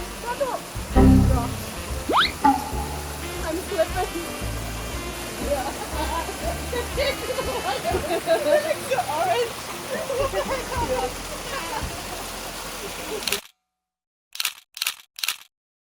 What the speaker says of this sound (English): And this is the second waterfall.